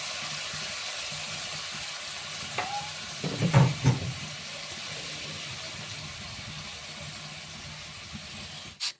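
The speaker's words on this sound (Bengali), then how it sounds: "এদিকে একটা কড়া বসিয়ে নিয়ে তেল দিয়ে দেখো চিংড়ি মাছগুলোকে ভেজে নিচ্ছি" Prawns fry in mustard oil in a wok: a constant soft sizzle with a short burst of clattering stirs midway and a sharp knock at the very end.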